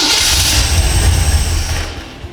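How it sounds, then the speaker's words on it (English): An EFI engine on an engine stand cranks and fires, giving a loud, rough, churning run for about two seconds before dropping away to a quieter tail. "We'll crank again."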